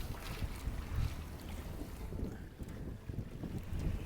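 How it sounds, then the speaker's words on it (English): Sailboat under way between China and Macau on open water, steady rushing wind buffeting the microphone over low rumbling wash of waves against the hull, continuous and fairly loud without talk. "Sailing in between China and Macau right now."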